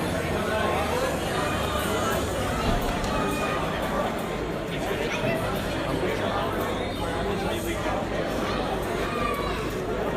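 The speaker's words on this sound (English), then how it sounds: "You can see there's quite a good crowd here for scrutineering" A crowd gathered at rally scrutineering makes a steady, close babble of overlapping voices and movement, a continuous hubbub throughout with no single voice standing out.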